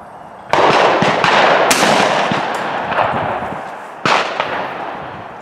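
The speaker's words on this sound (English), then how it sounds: "pull the trigger when it feels right" A single loud, close shotgun blast fired at a sporting clays target, followed a few seconds later by a second sharp shot, each trailing off in a long echoing decay.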